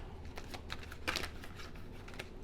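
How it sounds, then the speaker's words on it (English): New tarot cards being shuffled by hand, giving a run of soft, quick papery riffles at close range with no talking. "Sorry, it's taking a bit to shuffle. The cards are new."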